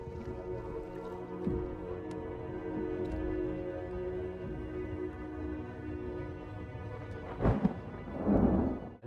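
Thunderstorm from the film Triangle (2009): low, rolling rumbles sustained under a steady musical drone, with a sharper crack and a swelling rush of rain near the end, no talking.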